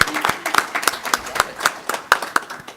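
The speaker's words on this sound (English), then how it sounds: "Let's give him a round of applause." Audience clapping at a symposium event after a saxophonist is introduced, a steady patter of hand claps with sharp individual claps standing out, moderately close and sustained for a few seconds without talk.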